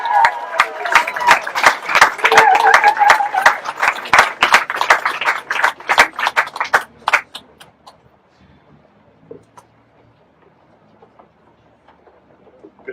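Audience applause for David Shepherd at a live evening event: loud, dense clapping from a crowd for about seven seconds, then fading to scattered claps and quiet room noise.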